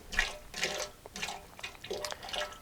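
Water being poured into a still pot for an absinthe batch from a real-herb kit, nearly four litres added; close splashing pours in several bursts, alone without talk.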